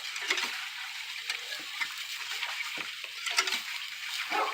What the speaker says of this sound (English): You're hearing the sizzling because that's what happens here.